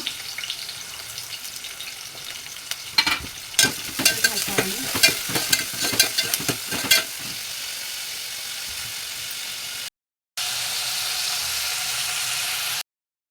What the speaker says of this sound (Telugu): గడ్డ ఫ్రై కొద్దిగా వేగిందండి ఇప్పుడు ఇందులో నేను కరివేపాకు వేస్తున్నాను